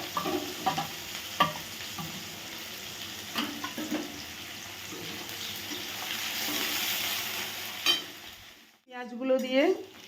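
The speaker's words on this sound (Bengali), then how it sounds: "পেঁয়াজগুলো ভাজা করছি।" Chopped onions and a bay leaf frying in hot oil in a kadai, with a continuous sizzle and scraping stirs throughout, then a brief pause and a metallic clatter near the end.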